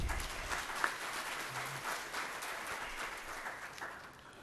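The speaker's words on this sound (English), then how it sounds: "I think we need to clap for the panelists." Faint, fairly distant applause from a conference audience for the panelists at the Transform Africa 2013 summit in Kigali, a soft wash of clapping that slowly thins out.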